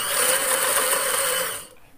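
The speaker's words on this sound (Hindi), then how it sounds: "इसके ऊपर ऊपर सिलाई लगानी है" Sewing machine running steadily while stitching along a marked kurti border, a continuous fast whirring hum that cuts off near the end, close and alone.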